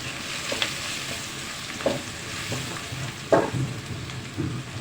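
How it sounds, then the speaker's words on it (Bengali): Duck meat with turmeric and chili powder sizzling in a hot pan, with a steady frying hiss broken by several close scrapes and clacks of stirring. "এখন মশলাটাকে ভালো করে আর একটু নাড়াচাড়া দিয়ে দেব।"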